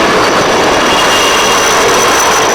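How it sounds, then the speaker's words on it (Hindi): A Coast Guard helicopter flies over the sea at night off Mumbai, its engine a loud, continuous whining roar that stays close and constant throughout with no voices. "ऊपर हवा में कोस्ट गार्ड का एक हेलीकॉप्टर उड़ रहा था।"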